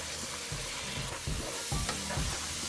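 Raw butternut cubes hit a pan of sautéed onions and sizzle steadily, with soft stirring thumps over a constant frying hiss.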